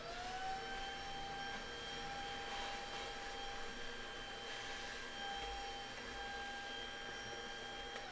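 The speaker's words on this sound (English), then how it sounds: "I'm gonna stick the vacuum and clean this up a little bit." A shop vacuum cleans up aluminum machining chips, giving a steady loud whine with strong tonal hums that hold evenly throughout, with no one talking.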